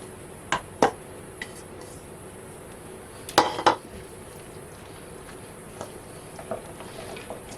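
A spoon stirring fruit preserves into whipped cream for a no-churn vanilla parfait, giving a few scattered clinks and scrapes against the bowl, with a cluster of louder knocks midway over a quiet background.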